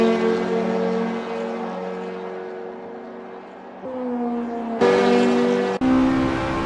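A Renault race car in Assetto Corsa laps the Goodwood historic circuit, its engine a steady harmonic drone that swells and dips, then jumps in pitch with abrupt gear-like shifts near the end; no voices.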